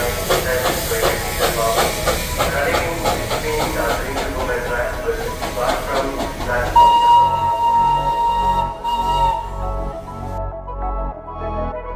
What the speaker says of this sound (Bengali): এত ভালো লাগে স্টিম ইঞ্জিনের টয় ট্রেনটা দেখতে